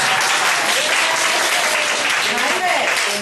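Students clap in a lecture hall, a dense, loud, sustained round of applause from many hands that holds steady throughout.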